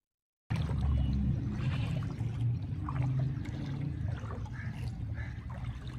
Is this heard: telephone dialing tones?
no